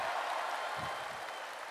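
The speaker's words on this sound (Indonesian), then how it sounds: "Tepuk tangannya kurang semangat." Audience applause at a political rally speech by Prabowo in Indonesia, a dense, continuous clatter of many hands clapping that fades slightly toward the end.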